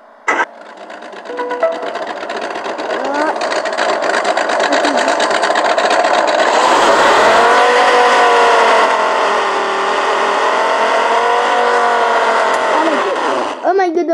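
A 4x4 engine starts and revs up, then runs at a high, fairly loud, close drone. The pitch swells and wavers around the middle before it cuts off near the end, and a voice briefly speaks over it.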